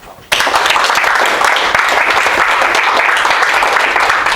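Audience applause welcoming Toni Escrig to the stage for a talk, starting abruptly after a brief quiet moment and then holding as a dense, steady wall of clapping from a full room.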